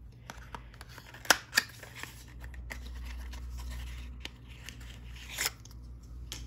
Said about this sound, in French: Je vais la déballer.